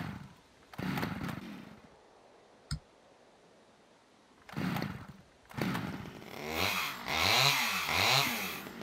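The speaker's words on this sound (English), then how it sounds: "it takes 6 seconds to cut down a tree with a chainsaw" A chainsaw in the survival video game Scum is pulled several times, sputtering in short bursts, then catches and runs with a rising, revving buzz, loud and close with no talk.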